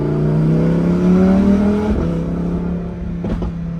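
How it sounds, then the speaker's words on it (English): A straight-piped, catless Lamborghini Huracan EVO engine drones loud and close with a deep, steady exhaust note that rises slightly, then eases off with a couple of brief pops. "you guys can hear that catless and that exhaust on that thing"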